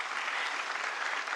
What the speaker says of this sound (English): let's give it a big round of applause to Leon